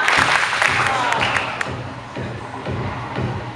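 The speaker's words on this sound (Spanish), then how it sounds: "Démosle un aplauso cariñoso al técnico." An audience claps for the technician at a live event in El Salvador, a short burst of applause that tapers off, with a voice speaking over it at the start.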